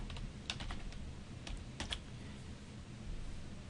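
Keys on a computer keyboard clack in a short, uneven run of soft, close taps as a command is typed, over faint room hum with no talking.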